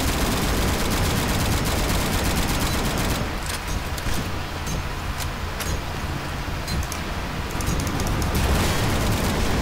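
Rapid automatic gunfire in Garry's Mod zombie survival, a dense, loud rattle of shots fired at a fast rate, continuing almost without pause and easing briefly in the middle before picking up again.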